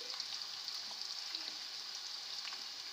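Kebabs frying in a pan give off a steady, close sizzle with a bright hiss and faint crackles throughout, and no one speaks.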